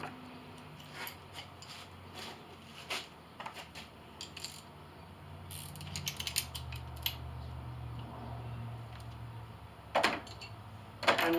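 Ratchet wrench tightening a bolt on a truck battery mount, heard as a series of close, sharp clicking bursts with irregular pauses over a low background hum, no talking.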